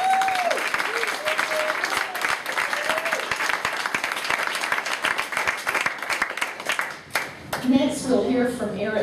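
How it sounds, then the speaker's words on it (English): Audience applause at a community history panel on a fairness campaign, steady clapping filling the room for about seven seconds, with voices chattering underneath and a speaker resuming as it fades out. "So let's have a round of applause."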